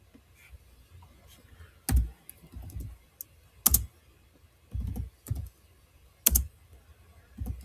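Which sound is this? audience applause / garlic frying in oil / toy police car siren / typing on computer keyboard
typing on computer keyboard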